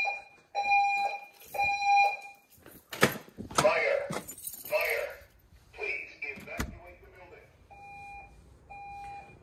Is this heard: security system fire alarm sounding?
yes